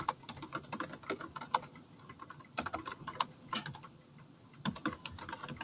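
Close typing on a computer keyboard in bursts of rapid key clicks, separated by brief pauses, with no talk.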